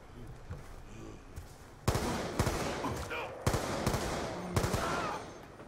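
Bursts of automatic gunfire in a zombie-mode video game, several sharp rapid volleys spaced a second or so apart, loud and close over a low background.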